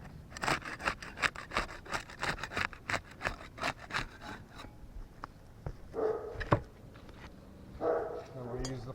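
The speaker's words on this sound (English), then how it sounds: "We'll use the putty knife to unseal the top shingle." A putty knife scrapes rhythmically under roof shingles to break their seal, a rapid series of close rasping strokes, followed by a few heavier scuffs and knocks, with a voice talking over part of it.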